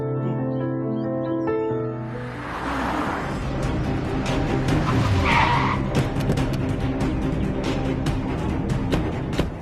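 A car in a Tamil TV serial pulls away with screeching, skidding tires over background music, followed by a string of sharp clattering hits.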